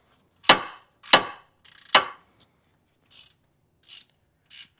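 Ratchet wrench turning a bolt on the AC bracket of a 2003–2008 Lexus RX330, a few loud close bursts of clicking pawl followed by lighter, shorter ratcheting strokes, with no voices.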